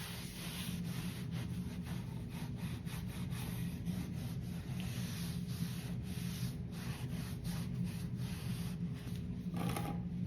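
Steady soft rubbing of a cloth buffing white wax over painted thrift store furniture, a continuous close scrubbing texture with faint rhythmic strokes and no voices.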